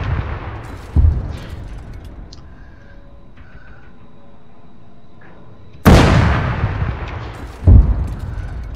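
Tank cannon fire in Arma 3: a heavy boom, a quieter stretch of low rumble with faint beeps, then a loud nearby blast with a long decaying roar and another boom just after.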